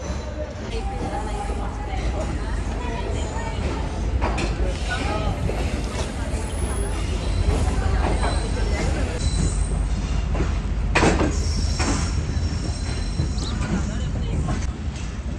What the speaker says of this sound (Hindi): तो बहुत ही खूबसूरत सनसेट व्यू के साथ ट्रेन डिपार्ट कर रही है हैदराबाद जंक्शन से